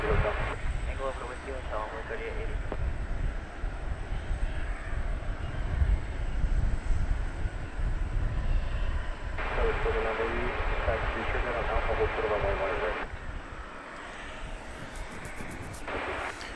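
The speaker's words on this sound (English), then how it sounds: "coming on down from Ontario in California. It's an Airbus A321." An Airbus A321 jet comes in to land at DFW Airport at night, a broad, sustained engine roar that swells and holds for most of the stretch, with people talking over it.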